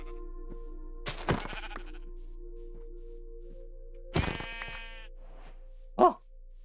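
Minecraft sheep bleat in a game setting: three short bleats spaced a few seconds apart, quite clear against a quiet background with a faint steady hum.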